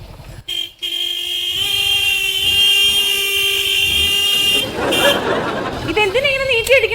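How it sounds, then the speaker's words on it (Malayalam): A loud car horn blares in one long, steady honk lasting a few seconds at a gate, followed by people talking nearby. "ഗേറ്റ് തുറന്ന് കിടക്കുന്നു, പക്ഷെ കഥ അടച്ചൊക്കെയാണ്. അതുകൊണ്ട് ഹോൺ അടിച്ചോ."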